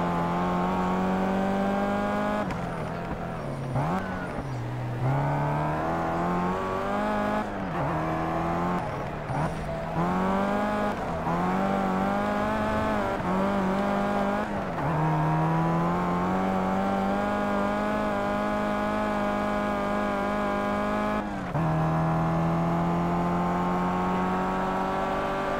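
A race car's engine in the Project Cars video game revs and accelerates steadily, its pitch climbing and dropping through gear changes over a long continuous drone, with no talk over it.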